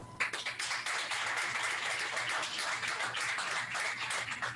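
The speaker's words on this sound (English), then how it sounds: "let's give another round of applause to our honoree" A banquet crowd at an awards evening gives sustained applause for an honoree, Corporal Perez, with dense, steady clapping from many hands filling the room from start to finish without any speech.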